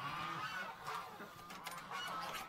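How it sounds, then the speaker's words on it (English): Geese on a nest give several honking calls, fairly close and moderately loud, in short bursts with brief pauses between. "Oh, I hear a goose in here."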